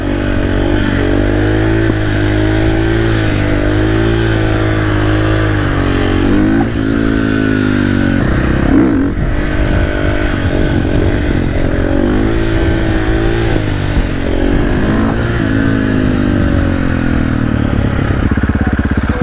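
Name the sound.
2024 Yamaha R1 motorcycle accelerating in first gear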